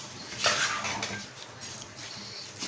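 Rice is stirred into tomato sauce in a pot, a spoon scraping and clinking against the metal in a few close, quiet strokes.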